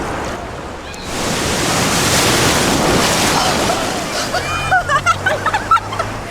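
Cold, rough sea surf along the Chilean coast, a broad steady wash of breaking waves and churning water filling the air, with a few brief clicks and knocks toward the end.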